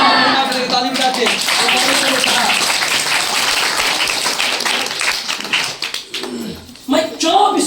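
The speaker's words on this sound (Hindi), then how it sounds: "ताली बजाते।" Congregation clapping during a Hindi-language church service, a dense sustained wash of applause filling the room for several seconds, with voices mixed in and the clapping thinning toward the end.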